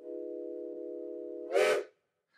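The reconstructed five-tone steam whistle of a BR 10 locomotive sounds one sustained chord of about one and a half seconds, then ends with a short burst of steam hiss, clear and alone.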